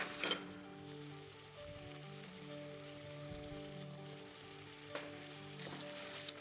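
Red, green and yellow peppers frying in a pan in a food production practical, a soft continuous sizzle with occasional stirring scrapes, quiet and close, without speech.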